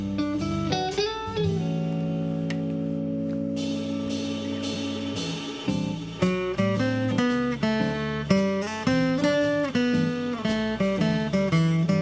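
Guitar moving through a 2-5-1 chord progression with voice leading: plucked chords, one held long and ringing, then a busier run of rhythmic chord attacks and changing notes, clear and unaccompanied.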